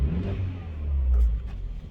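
A Mercedes-Benz CLA250 fitted with a RaceChip GTS Black tuning module revs its engine, a deep, close rumble that swells to a peak midway and then eases off, with no talk over it.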